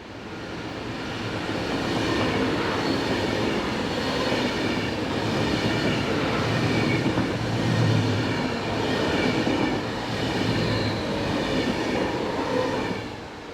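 A Swiss electric passenger train rumbles past on the Gotthard south ramp at steady volume for the whole stretch, wheels clattering and humming along the rails, with no voices.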